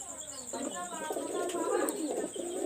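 High flyer pigeons coo in a low, rolling murmur that swells through the middle of the clip, with faint chirps and a thin steady background hum.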